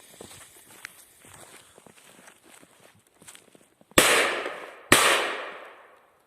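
Two loud Voo Doo Kometa P1204C firecracker blasts go off about a second apart, each echoing away, after a stretch of quiet footsteps and small rustles.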